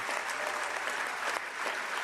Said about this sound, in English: It's the cheering that gets me.